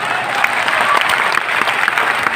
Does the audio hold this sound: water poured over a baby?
no